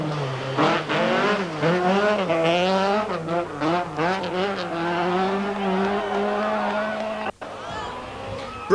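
Rally car driven hard on a stage of the 1983 Circuit of Ireland Rally, engine loud and close as it revs up and down through gear changes, ending in a sustained high-revving run.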